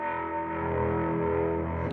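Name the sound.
electric guitar through effects pedals with reverb and stereo tremolo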